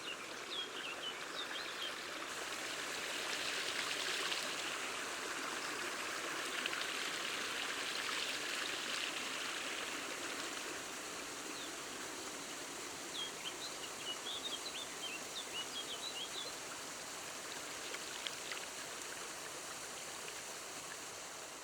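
Waterfall on an upland stream in northern Spain, forming a curtain of water over a dipper's nest, gives a steady, close rushing roar throughout, with faint bird calls scattered above the water noise.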